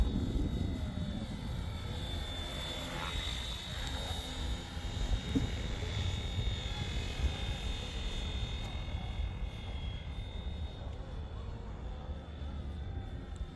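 A Flywing FW450 RC helicopter flying at full speed outdoors, a steady high-pitched rotor and motor whine with a constant buzzing drone, close and sustained throughout with slight shifts in pitch, and no voices over it.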